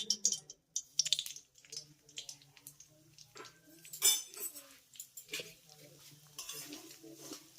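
Semolina added to melted ghee and stirred in a pan: a spoon scrapes and clinks against the metal in quiet, irregular strokes, close by, with no voice.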